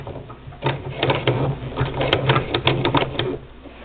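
A Singer Model 20 toy sewing machine runs close by in a steady mechanical clatter, its rapid rhythmic ticking and rattling needle strokes holding on throughout with no talk.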